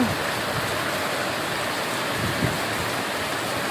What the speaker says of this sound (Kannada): ಮಳೆ ನೀರು ಸಿಡಿಯತ್ತಾವ